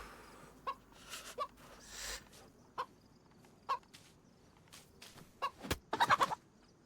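A chicken clucks in the survival video game VELES, short soft clucks spaced through the scene, then a quick louder burst of several clucks near the end, faint against quiet background noise.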